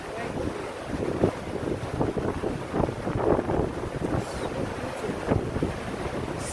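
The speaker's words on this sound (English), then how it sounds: "there is the waterfall right here" Waterfall roaring under a bridge, a steady broadband rush with gusts of wind buffeting the microphone, loud and continuous for the whole stretch.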